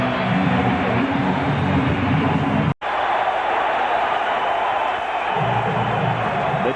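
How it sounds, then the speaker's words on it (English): Rangers fans cheering inside a hockey arena after their team goes up 3-0 against the Devils, a loud, steady crowd roar filling the space and dipping to silence for an instant partway through. "The cheering you hear is from the Rangers fans who realize that not only have they struck for 3"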